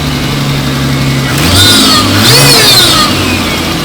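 A Nissan Skyline with an RB20 engine runs after its turbo exploded, idling low and steady, then revving twice in quick rises with whining harmonics before settling back to idle, loud and close with no talk.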